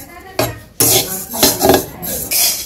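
Cumin seeds are dry-roasted in a pan, with loud rasping scrapes of a utensil stirring against the metal in repeated strokes and short pauses between them.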